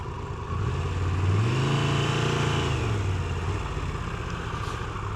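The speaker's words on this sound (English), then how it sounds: "a lot of bikes here too" A motorcycle engine rumbling nearby at a gas station, rising in pitch as it revs and then settling back to a steady mid-range drone, loud and continuous throughout.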